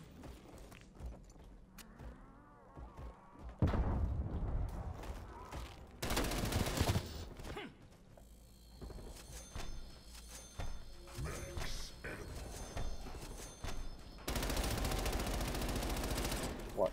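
Bursts of rapid automatic gunfire and single shots ring out in a Call of Duty Cold War Zombies match, loud and intermittent, with footsteps and thuds between volleys and faint voices in the background.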